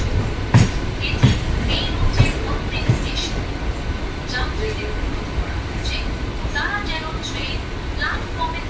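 A Howrah–Shirampur local train pulls into platform 4 at Shirampur station, its wheels thudding rhythmically over rail joints at first, then a steady rumble under station noise, with a voice talking throughout.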